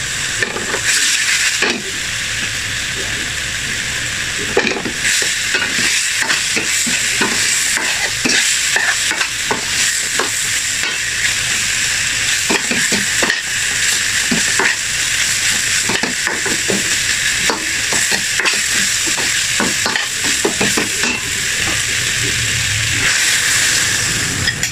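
Chicken and liver adobo simmering in a pan with olive oil, a steady loud sizzle and bubbling hiss running throughout, broken by frequent clinks and scrapes of stirring.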